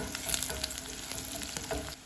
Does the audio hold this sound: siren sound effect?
no